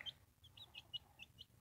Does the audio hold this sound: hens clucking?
yes